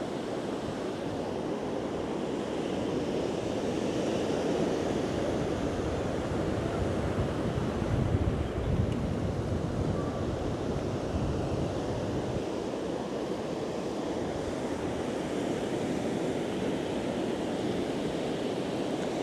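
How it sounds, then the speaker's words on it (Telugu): Waves washing in at Hamsaladeevi beach, a broad, steady roar of surf mixed with wind, continuous and fairly loud with no voices. "ఫైనల్గా అయితే మేము బీచ్ దగ్గరికి అయితే వచ్చాము, హంసల్ దీవి బీచ్ దగ్గరికి"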